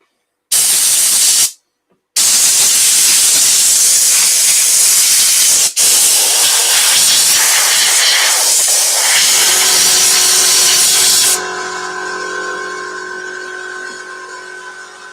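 Compressed air blasting excess finish out of the burry areas of an elm burr platter, loud steady hissing jets, close, with a brief pause early on, then tapering to a quieter hiss with a machine hum at the end.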